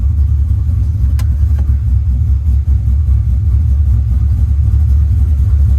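Pontiac GTO engine running with first gear selected after an engine failure, a loud steady low rumble that stays even throughout with no change in pitch.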